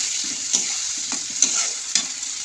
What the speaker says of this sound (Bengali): এবার এটা ভালো করে এই মশলাটা দিয়ে কষিয়ে নেব।